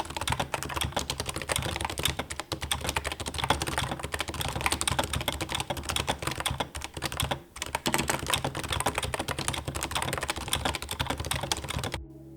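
Fast, steady typing on a Topre keyboard fitted with BKE Redux domes, a dense, continuous clatter of close, crisp keystrokes with a brief pause midway and no talking.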